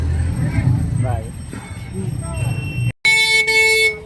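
A voice talks over passing street traffic in Triveniganj, Supaul, then a close, loud car horn blares in two short blasts.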